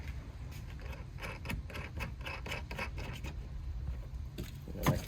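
A nut goes onto a kit screw beneath a PVC kayak mount, heard as a run of close, dry scraping and clicking contacts with a rhythmic, ratchety texture and a sharper click near the end, no voices.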